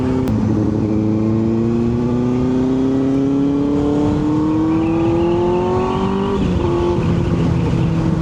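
A Benelli 600 motorcycle engine drones steadily while riding, its pitch rising smoothly as the throttle opens, then dropping briefly near the end before settling again; loud, close and continuous with wind noise.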